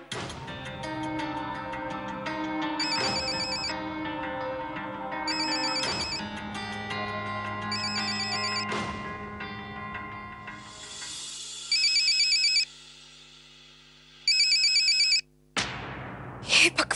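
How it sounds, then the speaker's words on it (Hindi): A phone ringtone plays a bright repeating melody, loud and close, with short bursts of high beeping chimes toward the end. "हे भगवान, विहान का फोन"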